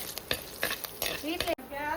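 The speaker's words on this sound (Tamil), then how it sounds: "ஒரு சட்டியில் எண்ணெய் ஊற்றி அதில் கடுகு, சீரகம், சோம்பு, உளுத்தம்பருப்பு, கடலைப்பருப்பு, நறுக்கின பூண்டு இதெல்லாம் சேர்த்து நல்லா வதக்குங்க" Mustard seeds, cumin, fennel, urad dal, chana dal and chopped garlic crackle and sizzle in hot oil while a utensil scrapes and stirs the pan in short, repeated strokes, close up.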